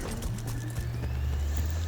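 Horse-and-buggy hooves clop in Battlefield Bad Company 2 over a low engine-like hum, a brief run of close, regular hoof strikes with no speech.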